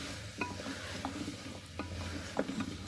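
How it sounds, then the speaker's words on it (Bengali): A pan of chicken, potato, papaya and slit green chilies being stirred, with soft frying sizzle under a few distinct scrapes and knocks of the spoon against the pan. "কাঁচা লঙ্কা দিয়ে এটাকে ভালো করে নেড়ে চেড়ে"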